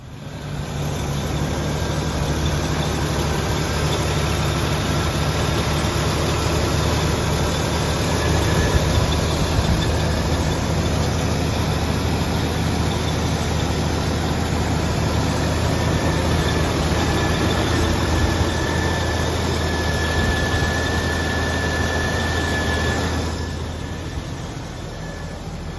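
A 1986 Jeep CJ7 engine running at a steady idle, a continuous low rumble with a constant drone, close and fairly loud, easing off slightly near the end.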